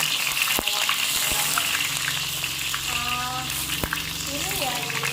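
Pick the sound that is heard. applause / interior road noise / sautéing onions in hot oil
sautéing onions in hot oil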